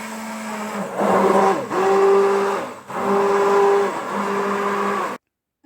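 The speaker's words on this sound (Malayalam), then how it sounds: "ഇത് ഹാൻഡ് ബ്ലെൻഡറാണ്, അപ്പോൾ അത് വെച്ചിട്ട് ഞാൻ ചെയ്യണേ." A hand blender purees carrot soup, its motor whirring loudly and steadily in several bursts with short dips between them, then stopping abruptly.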